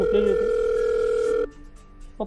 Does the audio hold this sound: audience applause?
no